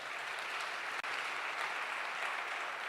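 Congregation applauding during a church service, a dense sustained wash of clapping from a large crowd, steady and moderately loud with a brief dropout near the one-second mark.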